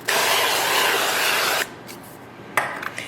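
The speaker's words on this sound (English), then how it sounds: "let me spray it with some nonstick cooking spray" A loud, close hiss of nonstick cooking spray into an Instant Pot lasts about a second and a half, followed by a second short burst and light clatter.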